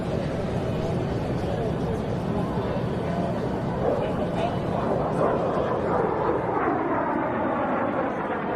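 A wood-built de Havilland Vampire jet with a de Havilland Goblin turbojet engine roars past at the Las Vegas Aviation Nation air show, a loud, steady broadband rush that swells slightly as it nears, with crowd babble underneath.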